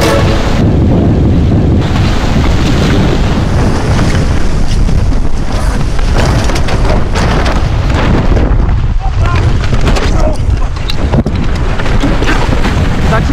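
Strong wind roars continuously across the microphone aboard a sailing boat near a bridge, loud and buffeting, with rushing water beneath and no pauses.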